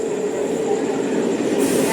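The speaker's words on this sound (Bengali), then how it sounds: "দেখো আমাদের ট্রেন এসে গেছে" A train pulls in at an Indian station platform, a loud, steady rumble of wheels and carriages rolling continuously close by.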